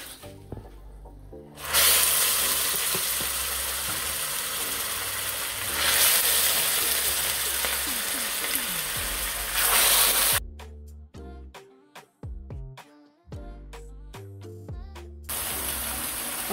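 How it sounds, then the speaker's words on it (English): Oxtail pieces hit a hot, frothy pot one by one for Trinidad-style stewed oxtail, giving loud bursts of sizzling hiss that swell and ease, followed by quieter clinks and handling sounds before the sizzle returns. "So what I'm going to do is start adding my oxtail one by one."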